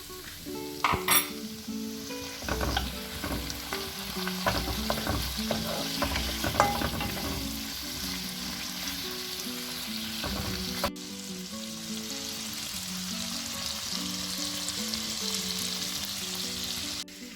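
Fresh prawns frying in a pan with tofu and soy sauce, a loud steady sizzle broken by clinking, scraping stirs of a utensil against the pan in the first half, then continuous frying alone.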